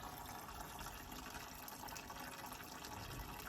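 Old diesel draining out of the fuel tank of an abandoned Fordson Major diesel tractor, a steady, faint liquid gush running without break and with no talk.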